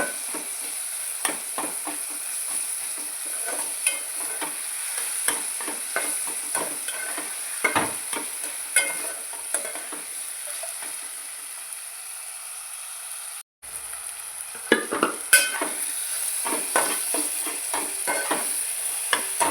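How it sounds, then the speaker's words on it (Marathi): Chopped onion and finely cut tomato being stirred and fried together in a pan, with soft steady sizzling under repeated scraping and tapping of a spoon, close by, with one brief dropout near the end. "तो पण कांद्यामध्ये अगदी मॅश होईपर्यंत हलवायचं आहे"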